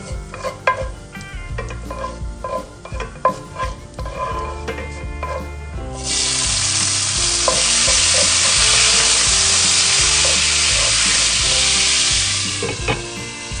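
Chopped tomatoes are tipped into hot oil for aloo methi soya, and a loud, steady sizzle and crackle takes over after several spoon-and-pan clatters, holding strong until it eases at the end.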